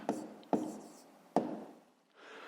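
Pen scratching out digits on paper while solving a decimal addition exercise, a few short strokes with sharp taps as the pen lands, then a brief pause and softer scribbling at the end.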